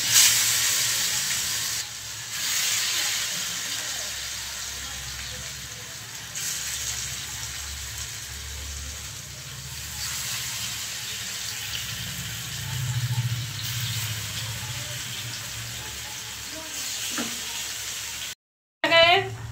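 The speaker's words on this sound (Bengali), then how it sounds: "ফ্রাই প্যানে আমি তেল গরম করেছি। এবার আমি গোল গোল পাকিয়ে আমি দেবো পালং শাকের বড়া।" Small rounds of spinach fritter batter fry in hot oil in a frying pan, making a steady, close hiss and crackle that runs evenly for a long stretch and briefly cuts out near the end.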